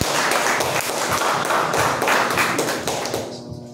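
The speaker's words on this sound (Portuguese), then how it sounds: "Dá uma salva de palmas" A church congregation gives a round of applause, a loud burst of many hands clapping with distinct taps, quickly tapering off to near silence at the end.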